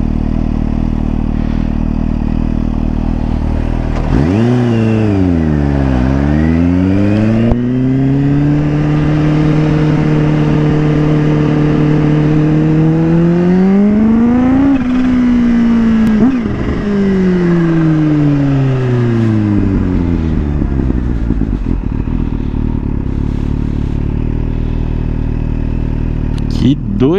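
A Kawasaki Ninja H2 motorcycle engine revs hard and loud, pitch sweeping up and down through several throttle pulls, with a steady close roar throughout and a rising surge mid-way before settling.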